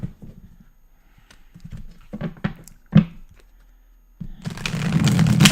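Tarot cards are shuffled by hand close by: a few scattered taps and knocks, then a dense, continuous riffling rustle that grows louder toward the end.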